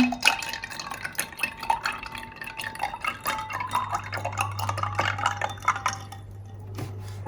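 Milk poured into a glass over ice cubes for homemade iced coffee, with light clinking and drippy splashes, a low steady pour sound joining partway through, close and fairly quiet.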